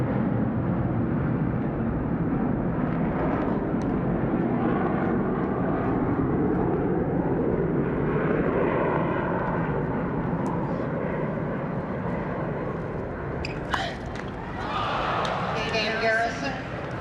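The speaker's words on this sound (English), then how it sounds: "It's like Grand Central Station here with all these planes." Airplanes fly over a tennis stadium during a 1989 US Open quarterfinal match, their engines a continuous distant roar and rumble that swells under commentary and crowd ambience for the whole stretch.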